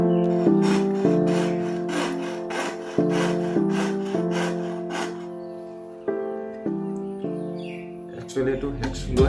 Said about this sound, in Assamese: এতিয়া চাব এইটো কেনেকৈ কাটিম।